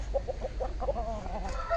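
Hens of fighting-chicken breeds in an Indian village cluck in a quick run of short, soft calls, close by over a low background rumble.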